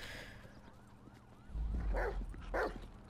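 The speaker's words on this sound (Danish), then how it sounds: "Åh, oh, en lille hund" A small dog in the video game GTA V barks in a few sharp yelps near the end, after a thin whining tone and faint distant siren, fairly close and brief.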